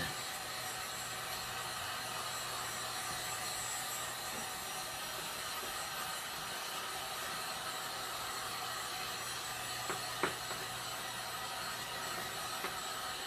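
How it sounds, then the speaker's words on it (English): A heat gun on its low setting warming epoxy on a tumbler gives a steady airy blowing hum, close and even, with a couple of faint clicks near the end and no voices. "Just using my heat gun to get this epoxy moving a little bit."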